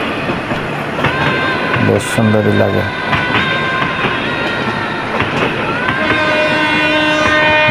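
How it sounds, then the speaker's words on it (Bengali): A train rumbles past the railway line at Jurani rail gate, running from Dhaka toward Narayanganj, with a steady rolling rush, clattering wheels and a brief horn-like tone, close by and loud while someone speaks over it. "এই যে ঢাকা থেকে ছেড়ে আসলো, নারায়ণগঞ্জের উদ্দেশ্যে যাইতেছে ট্রেনটা।"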